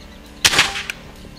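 A single sharp air rifle shot cracks close by during a chronograph velocity test of the gun, a loud burst followed by a short tail and a faint after-click, with no voices.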